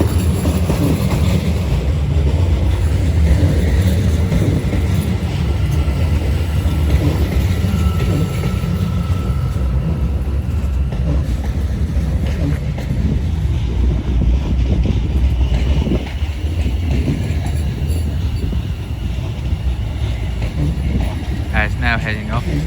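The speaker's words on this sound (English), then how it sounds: "Now heading off is the delayed 1306 South Western Railway service to Hampton Court with 450 leading." A South Western Railway service led by a Class 450 unit departs a London terminus for Hampton Court, delayed, giving a loud, steady rumble and rolling noise that continues unbroken throughout.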